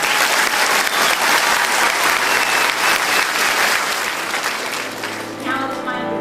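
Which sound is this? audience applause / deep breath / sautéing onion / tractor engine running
audience applause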